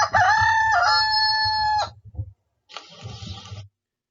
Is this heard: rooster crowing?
yes